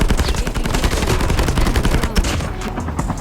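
Rapid gunfire in a Thai-played shooter game, loud continuous bursts of automatic shots filling the whole stretch with no pauses.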